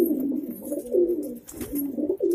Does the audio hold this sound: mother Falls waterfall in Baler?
no